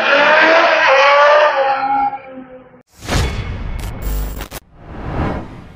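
A Ducati Panigale V4 S motorcycle engine revs hard and high, then drops off before rough, bursting revs and throttle blips follow, loud and close.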